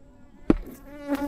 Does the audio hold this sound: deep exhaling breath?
no